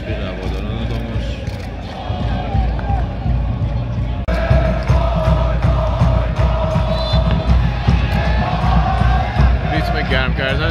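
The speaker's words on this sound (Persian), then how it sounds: "ریتم گرم کردنش با تشویق‌های هوادارا داره" Damash football fans cheer and chant in the stadium during the second half of a match, a loud, dense crowd roar with rhythmic clapping that persists throughout and swells partway through.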